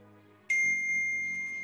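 A telephone notification sounds as a single sudden bright ding with a sustained ringing tone, loud and close, standing out in an otherwise quiet moment.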